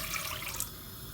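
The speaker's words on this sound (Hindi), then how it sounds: "ये इसमें हम थोड़ा सा पानी डालते हैं।" Water is poured into a cooking pot for aloo biryani, giving a brief, steady splashing rush close by with no talking.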